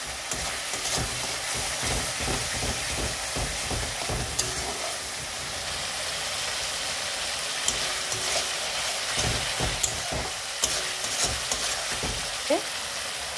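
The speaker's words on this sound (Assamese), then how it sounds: "মই অলপ পানীৰে মছলাখিনি ভাজি লম" Ground turmeric and cumin fry in a pan with a little water, a dense steady sizzle overlaid with repeated scraping and stirring strokes, close and moderately loud.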